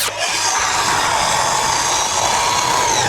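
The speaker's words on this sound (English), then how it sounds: "Now you're gonna wanna take your miter saw and adjust it 45 degrees vertically." A miter saw set to 45 degrees cuts through a poplar board, giving a loud, steady high whine with dense broadband noise that holds for about three seconds, with no voices.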